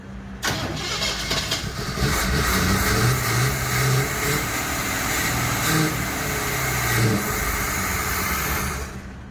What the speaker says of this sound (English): I'm gonna jump the coil. All right, give it a crank.